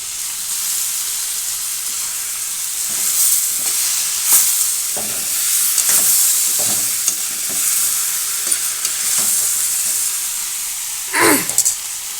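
Vegetables stir-fried in a hot pan with ginger garlic paste sizzle steadily, with repeated scraping stirs and a brief louder clatter near the end.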